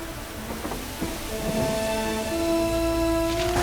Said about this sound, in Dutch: Maar toen hij op dat schip was, stuurde God een zware storm.